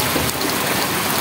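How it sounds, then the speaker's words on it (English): Steady, dense hiss of rain falling, an even wash of noise with no pauses. "Let me still show you the rains over here."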